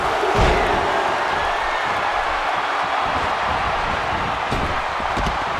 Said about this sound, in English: That's how you make this crowd stand on its feet.